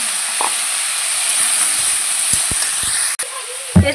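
Taro pieces go into hot oil in a wok, a loud steady hiss of sizzling with a few soft clicks and a sharp burst near the end.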